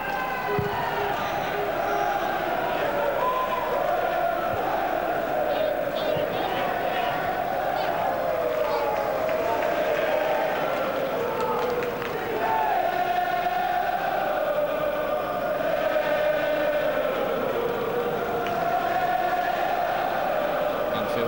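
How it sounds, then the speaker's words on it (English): Anfield football crowd at a Liverpool versus Chelsea match, a dense continuous roar of voices and chanting with shifting swells, loud and steady throughout, with a commentator's voice over it. "Crowd trying to lift Liverpool as they've done so many times down the years."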